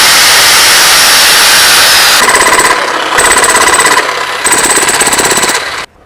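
A petrol-powered demolition hammer runs loud and close in a tool shop, a dense pounding roar that cuts in and out in three bursts as the trigger is worked, then stops abruptly.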